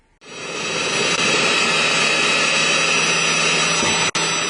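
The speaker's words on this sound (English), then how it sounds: "We drill a hole." A loud, steady high-pitched whine of a power drill boring a 6mm hole in a Nerf/airsoft fore grip, running continuously for several seconds, cutting off briefly near the end.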